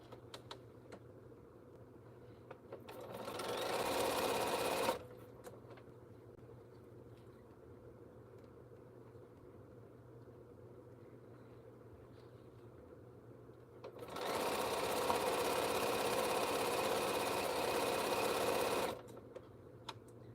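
A sewing machine stitches a T-shirt quilt in two steady whirring bursts, one about two seconds long and a later one about five seconds, with a quiet room hum in between and no talking.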